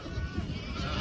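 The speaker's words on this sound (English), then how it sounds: "Now I'm gonna go talk to some goats" A goat gives a short, close, wavering bleat lasting about a second, with outdoor background noise around it.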